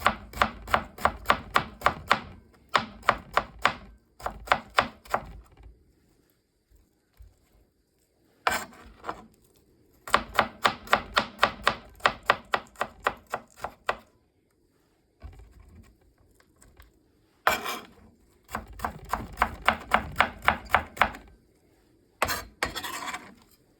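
A knife chops vegetables into small slices for spring rolls, quick runs of sharp, even taps on a cutting board broken by short pauses, close and clear with no speech.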